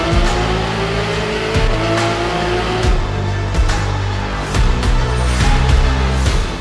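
A Lotus Emira sports car drives hard on a race track, its engine note droning loud and close, rising and dropping through gear changes with brief surges of revving and no talk.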